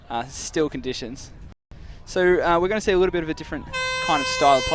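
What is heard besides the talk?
siren signalling start of ultimate frisbee play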